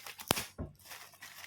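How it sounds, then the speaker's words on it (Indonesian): Packaging for audio-video connectors, including an HDMI switch, is opened: one sharp tear followed by softer crinkling and rustling of the wrapping, close and brief. "Nah, jadi saya unboxing, itu saya buka"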